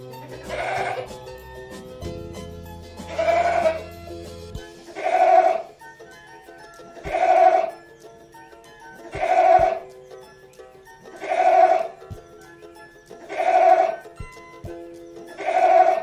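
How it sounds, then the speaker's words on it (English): A goat bleats eight times in a regular rhythm, one call about every two seconds, each clear and close. A low droning tone sits under the first few seconds. "Goat, mane bakra."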